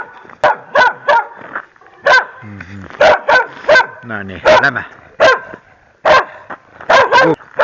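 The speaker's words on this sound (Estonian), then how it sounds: "Siin on üks teine koer, kes taugub meid." A second dog barks repeatedly at passing walkers on an afternoon walk, sharp close barks in uneven bursts with a few yips, while a person speaks briefly in between.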